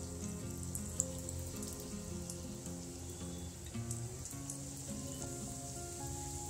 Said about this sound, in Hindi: पकौड़े फ्राई करने के लिए हम बैटर में पोटैटो चिप्स को इस तरह से डिप करेंगे और इसे फ्राई